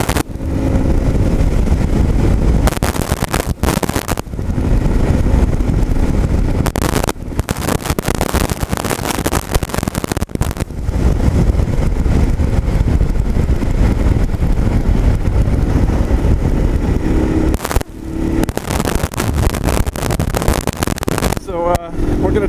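Continuous motorcycle engine drone and wind rush while riding a CSC RX-3, steady and loud throughout with brief dips, a voice talking over it at times.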